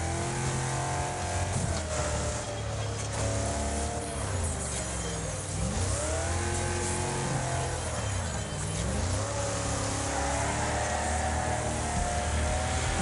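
Damaged race car in a PS5 racing game, its engine revving loudly and continuously with rising and falling pitch sweeps as it accelerates and shifts, no talk over it.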